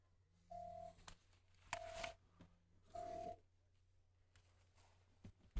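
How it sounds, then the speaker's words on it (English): A telephone rings three times in even bursts, faint against a quiet background with a low hum, and there is no talking. "My damn phone is ringing."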